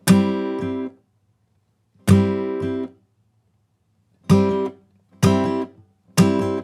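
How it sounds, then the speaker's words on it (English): Several percussive thumb hits on an acoustic guitar's fifth string with strummed chords, each ringing briefly then stopping, in an uneven rhythm of five short bursts, close up with no talking. "my thumb is coming down to strike a percussive hit on the 5th string"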